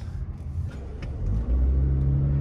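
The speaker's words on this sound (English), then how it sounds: "I'm taking this rental car, this Toyota Camry, up to as fast as I could go" A Toyota Camry rental car accelerates hard on a speedway straightaway open to traffic, its engine droning louder and rising in a steady, close roar from the cabin.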